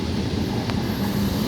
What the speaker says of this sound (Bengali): Down Howrah Bandel local train Bandel railway junction অভিমুখে যাচ্ছে।